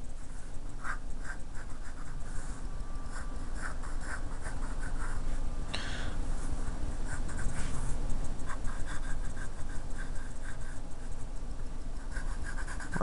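A pencil scratches and rubs across paper while drawing a Minnesota Vikings logo, close and continuous, with short repeated strokes and a few sharper scrapes, and no talking.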